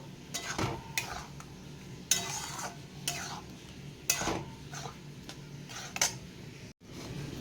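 A spoon scrapes and clinks against a pan while stirring sweet corn in ghee, in several separate strokes, close and fairly quiet, with faint background noise.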